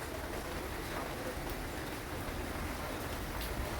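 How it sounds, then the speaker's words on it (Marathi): Steady rain falls at night as a dense, even hiss and patter that fills the whole moment without letup, with no voices over it. "पाऊस चालू आहे."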